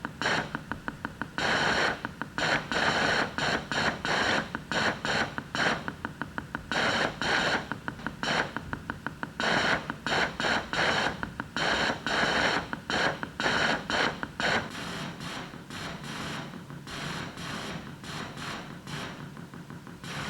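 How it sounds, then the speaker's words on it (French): Rapid bursts of white noise alternate with short silences to encode binary bytes, with a steady pulse behind them keeping time. The bursts come loud and fast for most of the stretch, then give way to a softer continuous hiss near the end. "si c'est 0, 1, 0, 0, 1, ça va faire silence, bruit blanc, silence, silence, bruit blanc"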